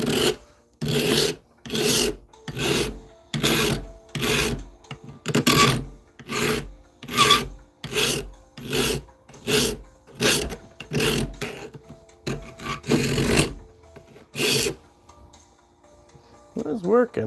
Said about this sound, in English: Let's GoPro some filing action anyway.